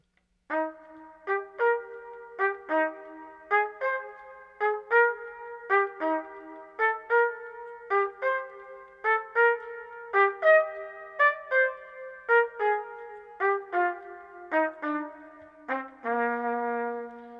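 A solo trumpet plays a series of short, detached eighth notes in small groups, clear and moderately loud, with a longer held note at the end.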